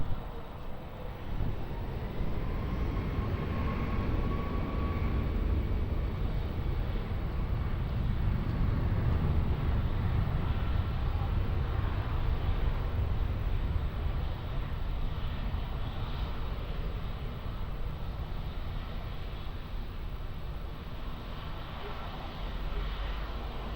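An airplane takes off from runway 20 at Lisbon Airport: a broad, steady engine roar that swells gently and holds for the whole stretch, heard from a distance with no voices.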